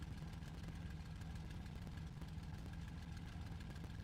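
Ju 88 Jabo aircraft engine idling in the IL-2 flight game, a steady low droning rumble with constant tonal hum, faint and uninterrupted with no talking.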